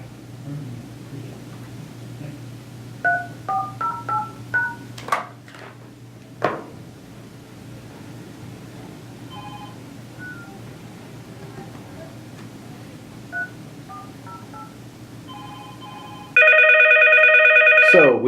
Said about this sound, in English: I'm going to call this phone now